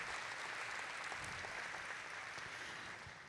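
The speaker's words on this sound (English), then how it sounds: "Let's give them a big round of applause." Audience applause for school board trustees at a district event, a continuous, fairly faint wash of many hands clapping, heard from a distance and holding steady throughout.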